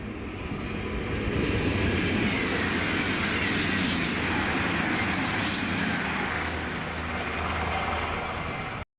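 A cross-country passenger train from Aberdeen bound for Plymouth, a pair of Voyager diesel units, rushes past at Prora with a broad, steady roar that swells and holds for several seconds.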